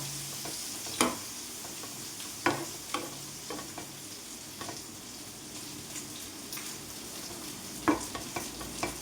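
A thick masala mixture with a little added water sizzles quietly in a pan as a spoon stirs and knocks against the sides every second or two.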